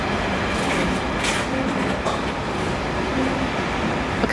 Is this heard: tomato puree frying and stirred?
no